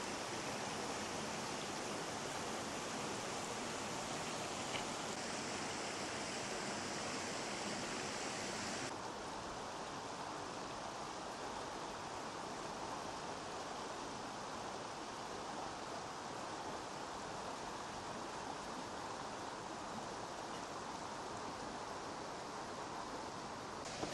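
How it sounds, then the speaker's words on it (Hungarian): A steady broadband roar of a waterfall on the Galbena river, constant and fairly close throughout, with a slight shift in tone partway through and no voices. "Eminenciás vízesés."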